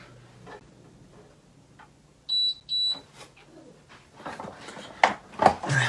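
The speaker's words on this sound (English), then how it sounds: "The alarm on my internet thing just went off." A small internet device gives off two short, sharp, high electronic alarm beeps in quick succession, followed by soft knocks and rustling nearby.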